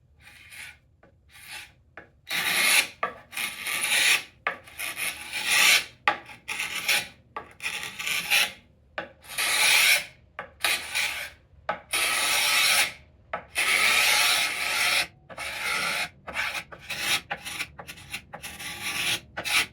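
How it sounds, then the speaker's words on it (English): A carbide scraper strips old shellac finish off a wooden drawer with repeated rough rasping strokes in a steady back-and-forth rhythm, close and loud, with short pauses between passes and no talking. "So I'm just going to strip this shellac off by using a carbide scraper."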